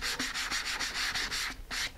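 A balsa fin on a model rocket is sanded by hand in quick, even back-and-forth strokes, about eight rasping passes in two seconds, close and fairly quiet.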